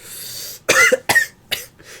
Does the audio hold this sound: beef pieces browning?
no